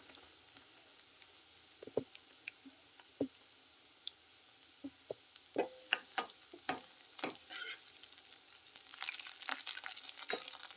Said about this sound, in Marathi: टाकते तेल आता आता टाकूया कांदा आणि कढीपत्ता टाकूया लसूण